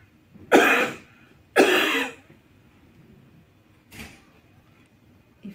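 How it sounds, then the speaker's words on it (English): Person performing airway clearance with a bronchiectasis breathing technique: two strong breathy huffs or coughs in quick succession, then a fainter third one, close and without speech. "we aim to clear them with a huff or two coughs."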